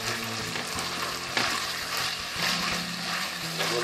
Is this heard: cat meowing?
no